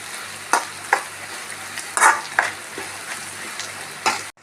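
A masala mixture for a tender jackfruit dish fries in a pan with a steady sizzle, punctuated by a series of sharp, irregular stirring scrapes and clacks from close by, with no talking.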